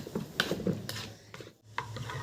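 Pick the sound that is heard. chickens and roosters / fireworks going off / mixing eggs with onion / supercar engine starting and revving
mixing eggs with onion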